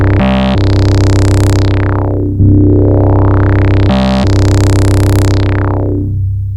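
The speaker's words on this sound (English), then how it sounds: "As you can hear, the filter is doing quite a bit of work here." A synth bass on a Polyend Tracker groove sustains a deep, buzzy tone while a filter sweeps the brightness down and back up in slow cycles, with brief rhythmic gated bursts, loud and alone.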